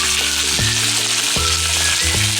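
Moringa leaves and spices sizzle in hot oil in a pan, a steady loud frying hiss throughout with a few soft stirring knocks, no voices.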